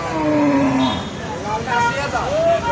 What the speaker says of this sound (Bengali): এই যে একটা বকনাগরু দর্শক এটার দাম চাইতেছেন কত